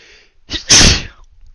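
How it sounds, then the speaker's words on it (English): A single loud, close sneeze bursts out after a brief gasping inhale, with quiet surroundings, while someone builds a plastic Gundam model kit. "feels like I gotta sneeze, but it doesn't want to come out"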